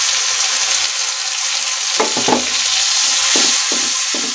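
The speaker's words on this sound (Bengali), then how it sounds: "মশলাগুলো দিয়ে ভালো করে কষিয়ে নেব" Cumin, coriander powder and salt fry with browned onion in a pan: a steady close sizzle, broken by a few scraping stir strokes in the second half.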